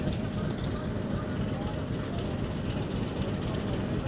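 Pakistan Railway's 147UP Miyanwali Express standing at Chiniot station, a steady loud broadband rumble of idling train and platform bustle throughout, with voices mixed into the noise.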